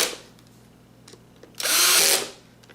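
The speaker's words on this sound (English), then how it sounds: "My electric drill" Cordless electric drill set at clutch 3 driving screws, a faint whir at the start and then a loud, close burst of high motor whine lasting under a second before spinning down.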